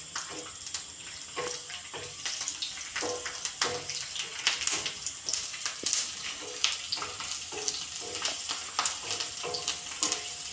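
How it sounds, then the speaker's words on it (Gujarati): Garlic frying in oil on a flat iron griddle, a quiet steady sizzle with scattered crackles and pops and occasional stirring scrapes. "તેલમાં લસણને ફ્રાય કરી લેવાના છે"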